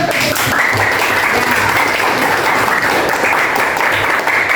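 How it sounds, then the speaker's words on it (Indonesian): A classroom group applauds during a teaching-practice lesson, a loud, steady wash of clapping from many students that stays constant throughout, with a few voices faintly mixed in. "Bibi, tepuk tangan."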